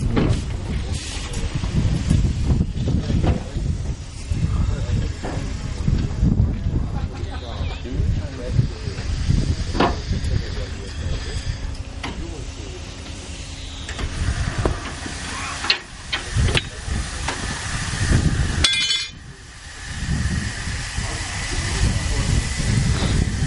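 A Ravenglass & Eskdale Railway train in Cumbria, England, rumbles along with steady low running noise, hissing and a few clanks, while people talk nearby over the sound.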